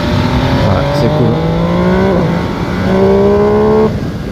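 A 2021 MV Agusta Brutale 800 RR motorcycle engine revs up loud and close, its pitch climbing in two rising sweeps with a brief dip between, strong and continuous throughout.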